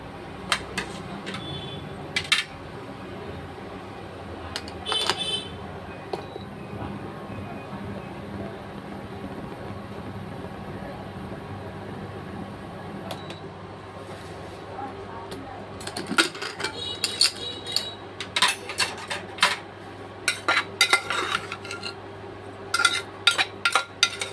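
Cooked carrot rice (gajor rice) being spooned onto a plate at home, with scattered clinks and scrapes of a serving spoon against the dish over a low kitchen hum, busier near the end.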